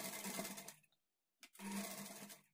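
A sewing machine stitches piping cloth on a lined blouse, running in two close bursts with a short pause between them.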